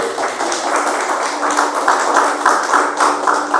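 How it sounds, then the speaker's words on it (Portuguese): Church congregation clapping for Jesus during a sermon, quick irregular hand claps from many people, loud and close, mixed with faint voices. "Palmas para Jesus, irmão."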